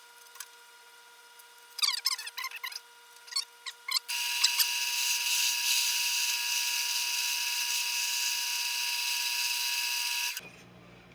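A lathe turns the tenon on the foot of a chestnut oak crotch bowl. A few light scrapes are followed by a steady, bright, whining cut that holds for about six seconds and then stops abruptly.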